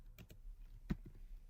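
A handful of soft computer keyboard keystrokes tapped sparsely while typing Angular code, with one sharper, louder key press standing out among quiet, irregular clicks over a low background hum.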